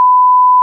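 A single steady electronic alarm clock beep, a pure tone held loud and alone for under a second.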